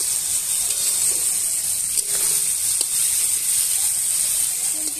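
Fish oil, eggplant and other ingredients fry in oil in a wok while being stirred, a steady bright hiss with occasional clicks and scrapes of the spatula.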